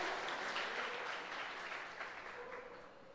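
A church congregation applauds during a Christian service, and the sustained, dense clapping of many hands slowly fades toward the end.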